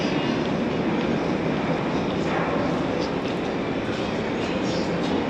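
Riding a metro train in Mexico, a steady loud rumbling roar of the moving carriage with no breaks, heard from inside.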